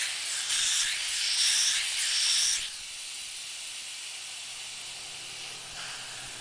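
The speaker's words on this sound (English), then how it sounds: "now we're ready to hit the bleed valve right here and bleed it down" Air hisses out of an AirForce Condor air gun tank through its bleed valve, a loud bright rush for a few seconds that drops to a fainter steady hiss.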